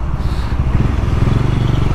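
Motorcycle engine droning steadily on a road near Manali, loud and close throughout with a continuous low rumble and some road clatter, no voices.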